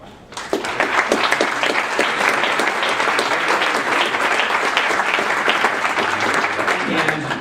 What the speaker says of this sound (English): I'd like everybody to give a round of applause to Williams & Connolly